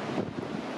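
Strong wind buffets the microphone on the beach at Lacanau, a dense, continuous low rumble with faint surf blended in and no voices.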